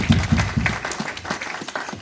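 Church congregation at a Sunday service in Paris applauding together, a steady, close wash of many hands clapping throughout the short burst.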